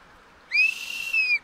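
A child blows a toy whistle in two quick connected bursts, shrill and steady-pitched, close by and fairly loud.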